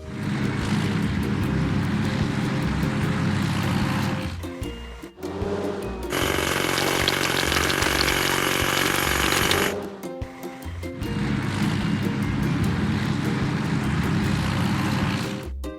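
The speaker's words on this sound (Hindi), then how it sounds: "चलिए सबसे बड़े पत्थर तोड़ते हैं।" A hydraulic hammer pounds big stones in a kids' house-building video game, a loud, dense rattling burst that stops around four seconds in and then returns, with a brief fuller blast in between, steady and close.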